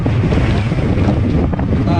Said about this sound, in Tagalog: biruin niya sa lakas ng hangin